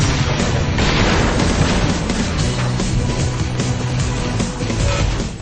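Dense, continuous roaring engine noise from cars in the video game Split/Second, mixed with booming crashes and explosions, loud and sustained throughout with no pauses.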